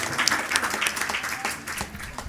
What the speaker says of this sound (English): Give Vaishi a round of applause